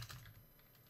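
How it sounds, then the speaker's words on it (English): Brief, soft clicking of fingers typing on a computer keyboard, a quick faint flurry of keystrokes. "let's type something here in Google"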